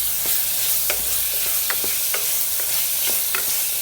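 Onion, green chilli and ginger garlic paste sautéed for a green chilli mutton curry: brisk, repeated spatula scrapes keep a steady rhythm over a constant close sizzle, with no talking.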